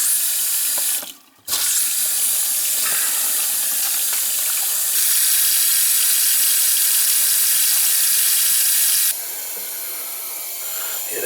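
A freshly repaired bathroom faucet runs steadily into the sink, a continuous close hiss of water with a brief interruption early on as the flow is shut and reopened.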